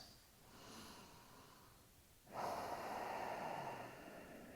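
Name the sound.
breathing in through the nose, long exhale through mouth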